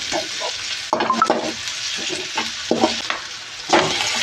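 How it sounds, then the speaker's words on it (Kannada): Onions sautéing with salt in a pan, a continuous sizzle broken by several sharp scraping stirs of a utensil against the metal, close and clear, with no talk. "ಇವಾಗ ಸ್ವಲ್ಪ ಉಪ್ಪು ಹಾಕ್ಬಿಟ್ಟು ಈರುಳ್ಳಿನ ಬಾಡಿಸ್ಕೊಳ್ತಾ ಇದ್ದೀನಿ"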